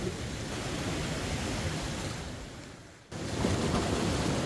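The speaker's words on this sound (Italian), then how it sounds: "le onde entrano in un modo regolare" Steady roar of heavy storm surf washing onto the shore, broadband and continuous, with a brief lull before the next wave surges in louder.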